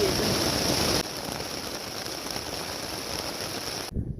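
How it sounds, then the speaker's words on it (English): Rain during a trek, a dense steady hiss of falling drops, loud at first, then softer and even, cutting off near the end. "This rain!"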